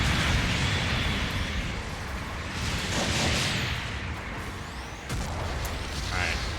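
Rocket explosions in the mech combat game Gundam Battle Operation 2, loud rolling booms and blasts overlapping one another in a dense, continuous barrage of battle noise.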